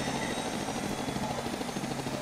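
Rotor thump of a helicopter in the video game Scribblenauts Unlimited, a steady, moderately loud chopping drone that runs through the whole stretch with no one speaking.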